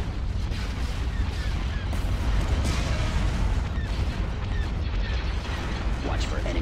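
Weapons fire crackles through a space battle in Star Wars Empire at War: Forces of Corruption, a dense stream of booms and bursts layered under radio-style unit chatter and commands.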